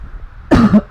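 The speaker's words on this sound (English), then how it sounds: "I know I have to cough now, sorry." A single close, loud cough bursts out after a moment of quiet room tone, harsh and throaty, lasting under half a second.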